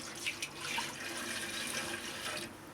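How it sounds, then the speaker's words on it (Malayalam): Coconut milk pours steadily into a pot of payasam with a soft, continuous splashing rush that stops near the end. "പായസത്തിനുള്ള 2ാം പാല് ഒഴിക്കുകയാണ്."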